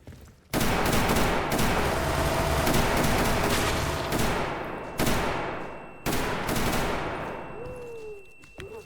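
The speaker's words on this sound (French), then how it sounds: "j'ai un revolver, il va faire mal" Roblox video game gunfire from a revolver, with sustained loud bursts of rapid shots in several waves and brief breaks between them, dense and close.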